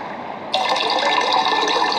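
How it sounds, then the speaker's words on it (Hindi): Water pours from a bucket into a container in a raft survival game, a steady splashing gush that starts abruptly and keeps running, heard alone. "और उस कंटेनर में पोर कर लिया।"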